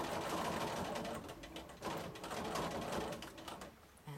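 A sewing machine stitching free-motion quilted feathers runs steadily and close, a continuous mechanical whir with rapid needle chatter and a brief dip in speed partway through.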